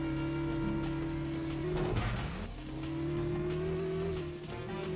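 A car races along in The Simpsons: Road Rage on GameCube, its engine holding a steady, droning tone that dips and swells briefly as it changes speed, with no voices over it.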